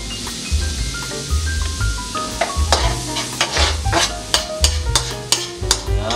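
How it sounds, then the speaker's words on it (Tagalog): Lots of garlic frying in a pan for pork caldereta, loud close sizzling with repeated scraping and knocking of a utensil as it is stirred in quick irregular strokes. "ilagay na natin itong ating bawang. Maraming bawang ang nilagay natin para mas masarap."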